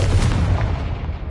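The Confringo blasting spell in Hogwarts Legacy goes off as a single heavy, rumbling explosive boom, loud and close, fading over about a second.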